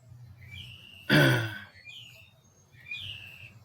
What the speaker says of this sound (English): Some of those birds do that. They try to find a mate. They sing, they chirp, all that kind of stuff.